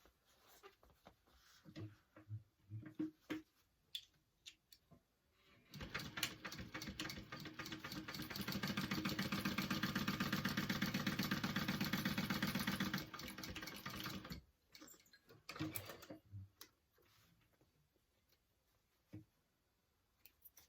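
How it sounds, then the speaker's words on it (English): A sewing machine top stitching a pocket for a backpack runs in one steady, fast-rattling burst lasting several seconds, framed by quieter clicks and handling noises before and after. "I'm going to top stitch my top here real quick."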